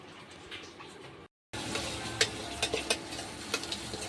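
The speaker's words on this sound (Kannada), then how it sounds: "ಉಳ್ಳಾಗಡ್ಡಿ ಫ್ರೈ ಆಗ್ಯಾವ್ರಿ" Chopped onions fry in a pan with a steady broadband sizzle, broken by a brief silent gap, followed by louder sizzling with scattered stirring clicks and scrapes close by.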